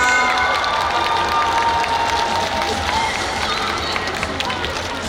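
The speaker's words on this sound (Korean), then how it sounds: "모두 뜨거운 박수 부탁드리겠습니다" Outdoor crowd at the Busan International Film Festival opening of the film Jeon, Ran, applauding and cheering the director and actors; dense, steady clapping with shouts and voices mixed in, loud and continuous throughout.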